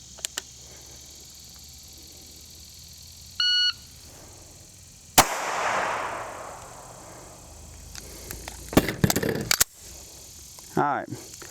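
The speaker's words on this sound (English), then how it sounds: "I have a shot timer, and I'm gonna be using it just for the beep to tell me to go." A shot timer gives one short electronic beep to start a pistol drill, then a sharp gunshot and a burst of further shots and clatter follow, with faint talk in the background.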